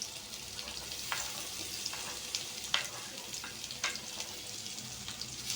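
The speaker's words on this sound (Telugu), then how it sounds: "గ్రీన్ చిల్లీ ఇలా కొద్దిగా వేగనివ్వండి" Green chilli and vegetables fry in a pan for a vegetable chutney, giving a continuous close sizzle with scattered sharp pops and spatters throughout.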